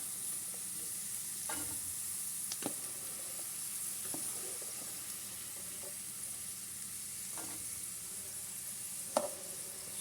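Potatoes frying in oil in a pan, a steady soft sizzle with occasional sharper clicks and scrapes as pieces are lifted out, no talking.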